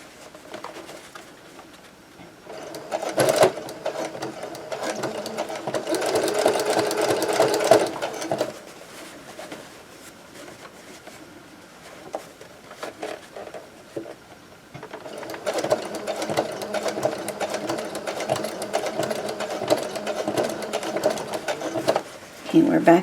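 Sewing machine stitching closed a homemade oven mitt, running in steady bursts of rapid mechanical whirring separated by pauses, close and fairly loud, with pigeons cooing faintly in the background.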